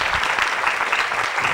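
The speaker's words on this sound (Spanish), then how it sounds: "les pido un aplauso" Dense, steady applause from an audience honouring a doctor after her talk on preventing and responding to gender-based violence, a close, continuous wash of many hands clapping with no speech.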